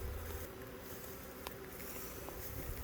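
A swarm of honeybees fans at the outside of a hive box on a brewery farm during swarm season, a steady, dense, faint buzzing hum with no talk.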